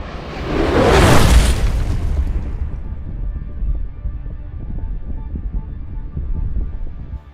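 A Ukrainian strike hits a Russian APC in a convoy, a loud deep boom swelling in the first seconds and then trailing into a long low rumble.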